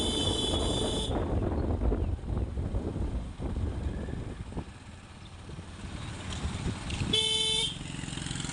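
A motorbike rides along a road through scenic countryside, its engine a steady rumble under wind buffeting, with a car horn tooting briefly near the start and again near the end.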